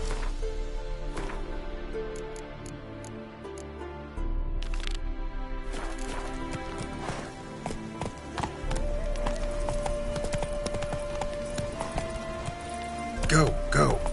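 A horse's hooves clatter in a steady galloping rhythm in The Witcher video game, under voices and background game sound, with a few sharper knocks near the end.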